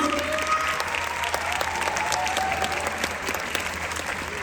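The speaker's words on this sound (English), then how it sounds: "we can go ahead and do a round of applause for these ones" A band awards audience applauds award recipients, with steady sustained clapping from a crowd filling the space, a few louder claps standing out near the front.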